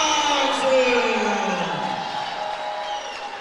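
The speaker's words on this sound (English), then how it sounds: "Big crowd on hand." A big crowd fills a gym at a girls' basketball regional final, a loud, steady murmur of many voices with scattered cheers.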